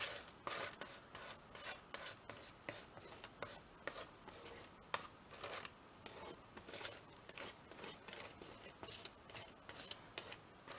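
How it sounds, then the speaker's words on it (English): A palette knife scrapes and drags gesso across an art journal page in quick, repeated rasping strokes, close and fairly quiet, with no talking. "It gives it a nice sort of texture using a sort of like one of these like palette knives, spatula thingy majigs."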